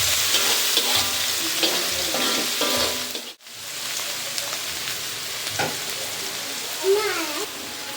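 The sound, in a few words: shrimp frying with onion and garlic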